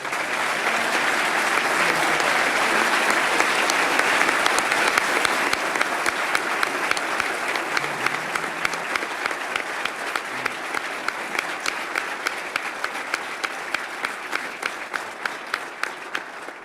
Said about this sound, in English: please join me in giving these individuals a big round of applause.